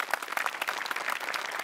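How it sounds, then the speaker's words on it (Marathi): An audience on a Marathi comedy stage show applauds in a dense, continuous patter of clapping that holds steady throughout, with no talk. "तर सचिनसाठी आणि विनायकसाठी टाळ्या."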